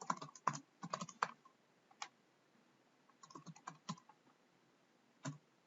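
Bursts of keystrokes on a computer keyboard, clicking in quick uneven runs separated by short pauses and a few lone taps, close and fairly quiet with no talking.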